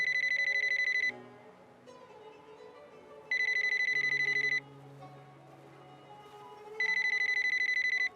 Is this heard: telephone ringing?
yes